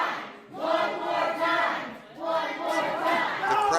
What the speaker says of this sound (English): The crowd chanting one more time